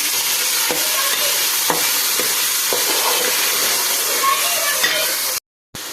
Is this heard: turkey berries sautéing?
yes